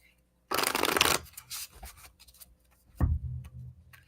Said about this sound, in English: Talk amongst yourselves while I shuffle.